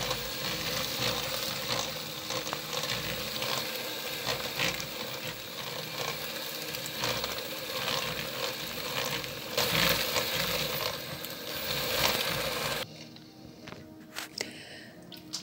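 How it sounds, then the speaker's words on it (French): A wire whisk beats a lemon-zest mixture in a bowl, giving a dense, rapid run of metallic clicks and scrapes up close that carries on steadily, then stops near the end, leaving quieter room sound. "Je bats de nouveau au fouet."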